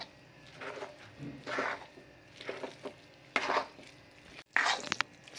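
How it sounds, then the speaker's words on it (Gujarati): Ground edible gum and ground dry fruits are stirred together for ginger pak, giving quiet, close bursts of scraping and soft mixing strokes with short pauses between. "સરસ એવું બધું મિક્સ કરી દીધું છે."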